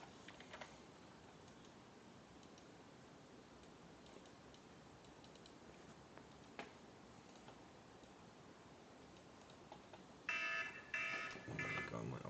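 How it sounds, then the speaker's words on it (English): Several alarms go off together near the end, a loud beeping burst of electronic tones that starts abruptly and keeps ringing, after a long stretch of quieter background ticking. "Oh my god, my alarms."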